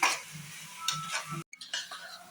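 Green chillies and onions sautéing in a pan for fresh-ground mutton biryani, quiet frying hiss with a few soft spatula scrapes and a brief cut to silence midway.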